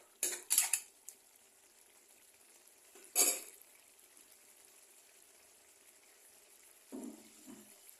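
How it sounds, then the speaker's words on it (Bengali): Spoon scraping and clinking in a pot as garam masala is stirred into a baby potato curry, a few short bursts separated by quiet, fairly soft and close. "গরম মশলা। দিয়ে এটাকে এইভাবে নেড়ে দেবো।"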